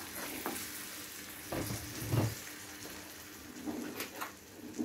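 Splash of water poured into a tajine that is starting to stick in the pan, a hissing sizzle with scraping stirs and bubbling bursts recurring over several seconds, close and moderately loud.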